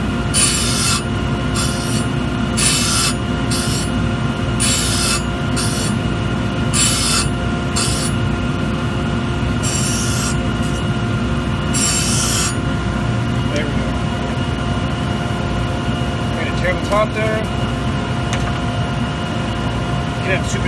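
Grinding wheel sharpening an ice skate blade, a loud continuous abrasive whine with repeated bright rasping passes as the blade is drawn along the wheel, over a constant motor hum.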